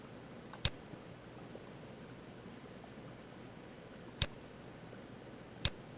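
Three sharp computer mouse clicks, isolated and close, with a pair near the start and two more after a long pause, over faint room hiss.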